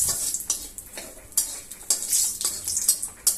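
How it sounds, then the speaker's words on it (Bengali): Dried red chillies and bay leaves frying in oil with whole cumin, stirred with a utensil: a steady sizzle broken by repeated sharp scrapes and clinks against the pan, close and fairly loud. "এবার আমি শুকনো লঙ্কা মরিচটা দিয়ে দিয়েছি। একটু ভালো করে নেড়ে নেব।"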